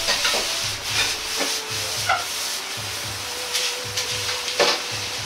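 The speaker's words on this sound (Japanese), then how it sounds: "あとは軽く炒め合わせれば完成です。" A spatula scrapes and tosses tuna and komatsuna fried rice around a hot pan in quick rhythmic strokes, with a soft sizzle underneath.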